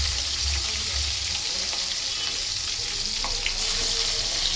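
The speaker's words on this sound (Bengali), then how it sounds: "তো মাছগুলোকে ভালো করে ভেজে নেব।" Fish and fish roe fry together in oil in a kadai, a steady close sizzle with low bubbling and a few faint clinks, with no talking.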